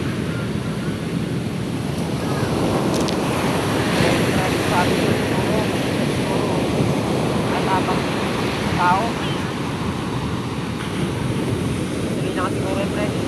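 Large ocean waves surge and churn around small boats crossing rough water, a steady loud roar of surf and wind buffeting the microphone throughout, with voices faintly audible beneath.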